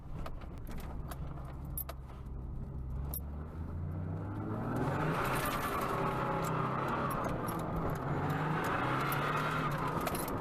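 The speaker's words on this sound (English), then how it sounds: "I absolutely love driving this car." A classic car drives along with its engine note building and growing louder partway through, then holding a sustained, rough road roar with light rattling, and no one speaking.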